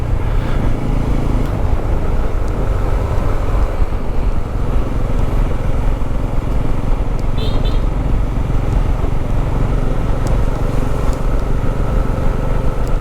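A motorcycle rides along a road on Bantayan Island in the Philippines, with a continuous loud rumble of engine and wind buffeting throughout, no pauses, and no clear talk over it.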